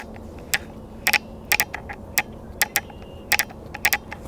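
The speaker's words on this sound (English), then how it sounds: "I heard a clicking noise, different if I held the gun up" Sharp metallic clicks rattle irregularly from inside a Ruger Vaquero revolver held pointing up, about a dozen crisp close ticks, some in quick pairs, over a faint hum.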